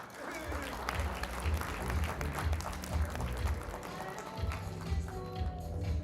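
Audience applause fills an award ceremony hall after a winner is announced, steady dense clapping at moderate volume lasting throughout, with rhythmic low thumps and a voice talking underneath.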